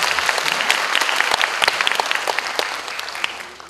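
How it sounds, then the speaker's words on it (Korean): Audience applause at a university admissions information session, a dense round of clapping that stays steady and then tapers off near the end. "큰 박수 부탁드리겠습니다."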